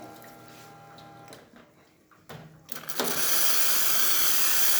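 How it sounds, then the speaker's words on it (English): An ECM espresso machine boiler, scaled up badly, vents steam pressure: low machine hum at first, then a loud, steady broadband hiss bursts in and holds to the end. "Same for this machine, as you can see, with pressure coming out from the boiler."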